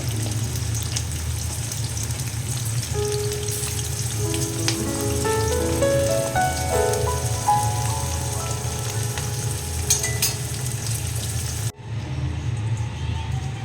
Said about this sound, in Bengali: ওই জন্য একবারে ভাজা যাচ্ছে না, অল্প অল্প করে 2-3 বার করে ভাজতে হচ্ছে